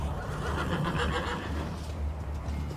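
Restless cavalry horses neigh and whinny loudly at close range, a dense, continuous chorus of overlapping calls lasting a few seconds with no voices.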